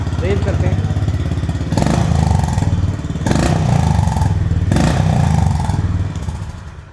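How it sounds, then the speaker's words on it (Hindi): Honda CB350 RS motorcycle engine idling with a throbbing exhaust note, then three strong revs that rise and fall in quick succession, loud and close. "एक बार आपको चेकआउट कराता हूँ इसके एग्जॉस्ट और इंजन का साउंड।"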